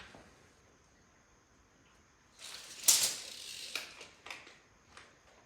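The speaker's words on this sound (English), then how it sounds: "Then we're going to drive a screw in right here." A screw being driven into kitchen cabinet blocking: after a quiet start, a burst of ratcheting, grinding driver noise, then several short clicks and taps close by, with no talking.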